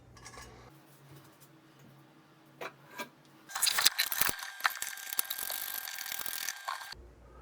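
A sink faucet fitting being tightened during a vanity installation: a few light clicks, then a burst of close metallic ratcheting and scraping for several seconds, with no voices.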